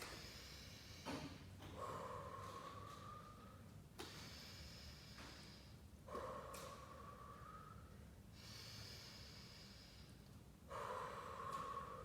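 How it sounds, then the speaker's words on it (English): Three slow, deep breaths are taken during a bodyweight workout cool-down, each a long audible inhale and exhale, spaced evenly and close to the microphone. "we're going to take 3 deep breaths"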